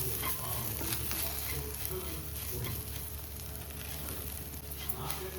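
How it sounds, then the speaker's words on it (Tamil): Roasted ground masala powder sautéing in a pan gives a steady, close, continuous sizzle with scraping stirs throughout, and no one speaks over it. "ஒரு 5 நிமிஷம் மட்டும் அந்த பச்சை வாடை போகுது வரைக்கும் கொஞ்சம் வதக்கிக்கிடலாம்"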